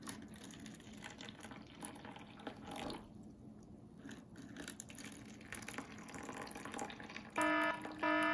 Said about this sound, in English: fill these cubes with boiling hot water